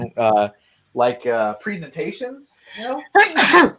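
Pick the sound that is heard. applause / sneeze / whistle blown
sneeze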